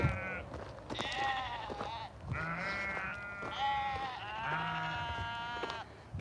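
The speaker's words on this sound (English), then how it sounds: "I smell a sweaty sheep." Several sheep bleat close by on a warm day outdoors, a steady run of drawn-out, quavering calls following one after another with little pause between them.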